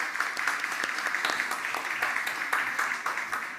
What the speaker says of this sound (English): Please give a round of applause to Alexis Bonte.